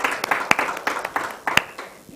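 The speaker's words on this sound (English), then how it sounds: "A big round of applause." An audience at a talk on women in the legal fraternity and business claps in a short burst of moderate applause, with scattered sharp individual claps standing out.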